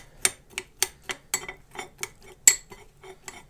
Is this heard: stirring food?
yes